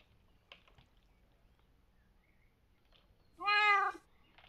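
A cat lets out a single clear, drawn-out meow near the end, close and loud, after several seconds of faint background rustling.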